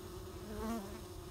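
Mandaçaia stingless bees defend their hive against an intruder bee from another swarm, a close, steady buzzing drone with a brief louder, higher whine from one bee passing near, faint overall and with no talk.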